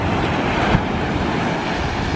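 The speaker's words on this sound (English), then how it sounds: "Definitely more waves than last time." Ocean surf washes steadily onto a breezy beach, a loud continuous rumble of breaking waves mixed with heavy wind buffeting the microphone.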